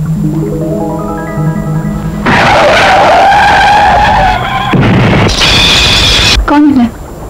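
A car skids hard to a stop in an old Odia film, a loud sustained tyre screech lasting several seconds over the surrounding soundtrack.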